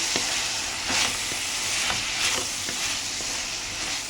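Food fries in a pan with its lid lifted, a steady close sizzle and crackle with occasional soft taps and stirring scrapes, and nobody talking.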